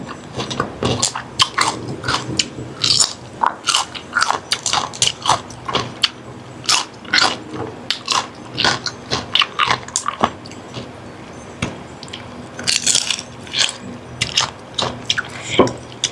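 Raw red roselle flowers are bitten and chewed close up, giving repeated crisp crunches and wet chewing sounds in an uneven rhythm throughout, with no talking.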